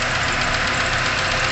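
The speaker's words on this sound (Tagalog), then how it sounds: "Umaandar na po yung aircon compressor natin." A 1999 Honda Civic engine idles steadily with the aircon compressor engaged, giving a continuous, even mechanical hum with a slight knocking texture. It is close and fairly loud, with no voices.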